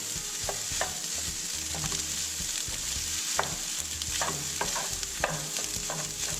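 Kimchi fried rice stir-frying in a pan, a steady close sizzle broken by repeated scraping and clacking of a utensil against the pan, with no voices.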